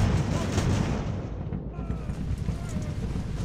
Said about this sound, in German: Ihr habt tatsächlich Schussfeld und schießt da auch voll drauf.